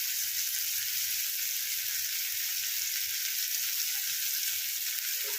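Onions fry in plenty of hot oil for an egg curry, giving a steady, even sizzle that hisses continuously without pause, moderately quiet and close, with no talking.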